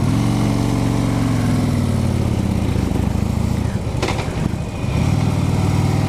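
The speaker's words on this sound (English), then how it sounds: "I was wondering why the bike was pulling out so bad, Jack." A motorcycle pulling out poorly in second gear after being dropped over a pothole, its engine droning steadily and loud close by, with a brief dip in the middle before the throttle picks back up.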